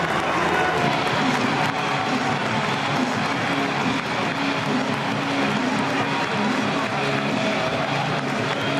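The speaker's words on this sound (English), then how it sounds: "here come the Munster players, led out by captain CJ Stander, to a great ovation from the home crowd" A home crowd at a Munster versus Edinburgh rugby match roars and applauds steadily as the Munster players walk out, a broad, loud wash of cheering with no break.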